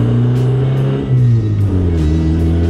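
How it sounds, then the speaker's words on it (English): A Honda Civic running without a muffler, its engine loud and close, a deep throaty drone that dips and climbs through a couple of quick revs. "this is not a quiet car. This is a very loud car."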